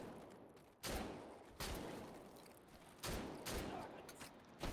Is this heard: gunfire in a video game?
yes